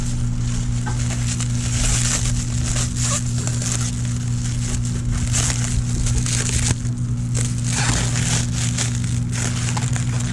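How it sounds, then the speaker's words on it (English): Plastic packaging is crinkled and pulled off a Lyson solar wax melter outdoors, a continuous close crackling and crumpling over a steady low hum. "You wouldn't think there'd be any assembly at all, but you gotta unwrap this"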